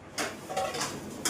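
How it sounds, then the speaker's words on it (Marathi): Someone washes pots and dishes nearby, giving a few sharp metallic clatters and scrapes in quick, uneven bursts. "इकडे आमची अक्का भांडी घासतीये"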